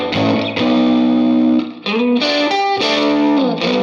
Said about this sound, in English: once you turn up the fuzz, then you start to hear more of it